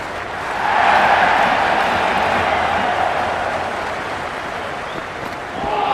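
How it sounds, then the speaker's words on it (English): Stadium crowd noise at a simulated India vs Netherlands T20 World Cup cricket match in the Cricket 26 video game, a dense, continuous roar with clapping and cheering that swells early and holds steady throughout. "The crowd are making a heck of a lot of noise even before the first ball's been bowled."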